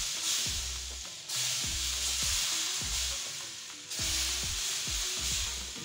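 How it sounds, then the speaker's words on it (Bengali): A frying pan on low heat sizzles and hisses as it is wiped with oil and water, with repeated scraping strokes and bursts of sizzle, fairly quiet and close, with no voices. "একটু তেল আর পানি দিয়ে ফ্রাইং প্যানটা মুছে নিচ্ছি।"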